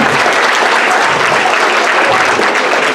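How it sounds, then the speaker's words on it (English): Audience applause at a school Transition Year variety show in Enniscorthy, a dense, steady wash of clapping from a large crowd that stays loud and even for the whole stretch. "Give her a big round of applause."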